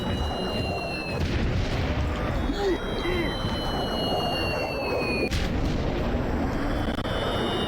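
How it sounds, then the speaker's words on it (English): Continuous booming explosions pound away without letup, dense and loud, layered with whistling and high whining tones. "That's the sound of explosions coming my way."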